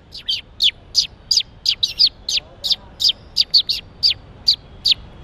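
A man whistles a rapid series of short, high sparrow-like chirps imitating a female sparrow, about a dozen evenly spaced notes, clear and close, with no other voices.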